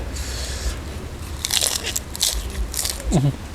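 Crunchy bites into Thai-Isan snail salad (koi hoi) mixed with red ant eggs and crisp vegetables, a few sharp crunches close up between bursts of speech.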